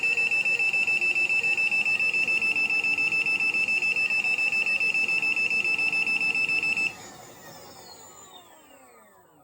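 A Veteran Abrams electric unicycle sounds its speed alarm at around 50, a loud, rapid train of high-pitched beeps that runs steadily for about seven seconds before cutting off, leaving wind and road noise.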